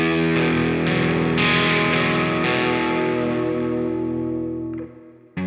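Electric guitar through an EarthQuaker Devices Zoar dynamic distortion, with hall reverb mixed high, rings out as one sustained, thick distorted chord that slowly decays before a brief cutoff, loud and alone.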